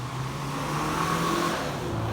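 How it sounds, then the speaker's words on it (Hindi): A car speeds along an empty city road around half past midnight, its engine a steady droning hum with rising tones as it passes fairly close, alone with no talk. "भाई साहब बहुत उड़ाते जा रहे हैं गाड़ी"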